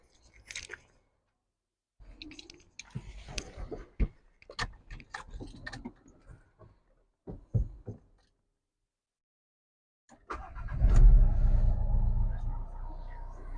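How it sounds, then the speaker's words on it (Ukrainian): A 2017 Renault Kangoo 1.5 dCi diesel van engine cranks and catches after a stretch of quiet clicking and handling noises, then settles into a steady, loud idle rumble. "Зараз ще вам заведу автомобіль, послухайте, як працює"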